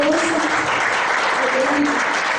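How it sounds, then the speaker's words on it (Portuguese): A church congregation applauds steadily and loudly throughout, dense and sustained, with voices raised in the crowd mixed into the clapping. "Você pode aplaudir o Senhor, irmãos?"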